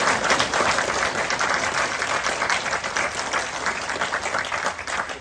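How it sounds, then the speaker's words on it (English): A crowd at a jiu-jitsu black belt promotion applauds the family, a dense steady patter of many hands clapping at close range, slowly easing off toward the end. "Round of applause for the family over there."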